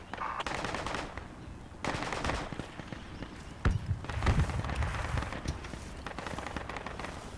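Automatic weapon gunfire in a military video game, rapid bursts of shots from several sources, some near and some distant, in an outdoor battle with no talking.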